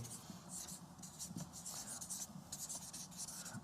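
A pen scratches steadily across paper while figures are written down, a close, continuous scribbling with brief pauses between strokes.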